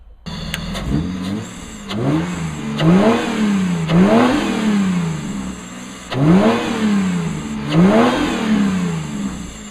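A car engine fitted with a nitrous kit revs at full throttle in repeated loud bursts, the pitch sweeping up and falling back several times, close and alone without talk.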